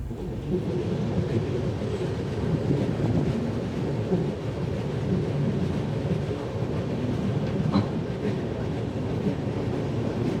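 Delhi–New Jalpaiguri Express passenger train running on rails, heard from inside as a steady loud rumble with wind noise and faint clacking throughout.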